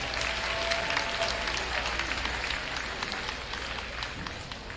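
A high school class night crowd claps for a list of students, a sustained, even roar of applause filling a large room, moderately distant and steady throughout.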